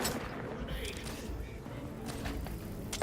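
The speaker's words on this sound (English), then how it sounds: "Who's throwing grenades?" Grenade blasts and gunfire crackle through a firefight in The Outer Worlds 2, a dense, steady wash of shots and booms with scattered sharp bursts and a player's voice talking over the battle.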